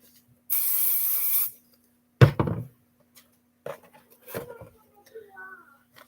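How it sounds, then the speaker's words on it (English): A steady hiss of an aerosol spray on fabric lasts about a second, followed by handling thumps and light rustling sounds. "and I will spray that too."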